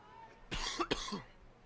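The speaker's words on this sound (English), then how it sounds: "It's allergy season, folks, as evidenced by my cough, so beg your pardon for that." A couple of sharp, close coughs in quick succession at a girls' soccer match, breaking a quiet background.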